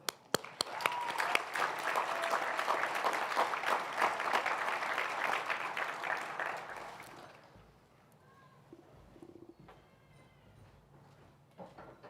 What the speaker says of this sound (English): thanking our friends, families, staff, and those who couldn't be here today with a well-deserved round of applause